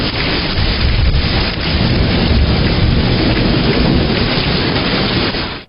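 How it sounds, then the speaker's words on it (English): A thunderstorm rolls in at a Disney resort area, with loud, continuous heavy rain and deep rumbling thunder swelling throughout, close and enveloping, with no voices. "we do have a storm of brewing"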